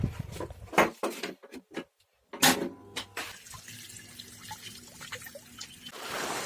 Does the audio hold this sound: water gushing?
yes